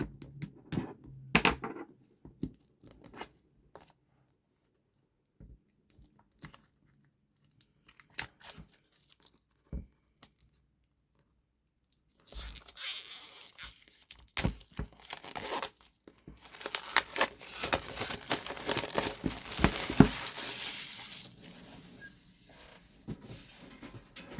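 Packaging around a Winsor & Newton mixed media paper pad is torn and crinkled, with sparse rustles and short rips at first, then a long, dense stretch of close tearing and crumpling.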